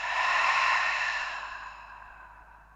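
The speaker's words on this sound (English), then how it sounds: "Open mouth, exhale." A single slow, audible exhale through an open mouth, close and soft, rising quickly and then tapering away gradually, as in a relaxing yoga breathing exercise.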